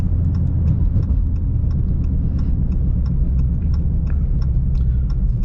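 A 2019 Dodge Charger R/T with the 5.7 engine drives along and upshifts, heard from inside as a loud, steady low rumble with faint ticking on top.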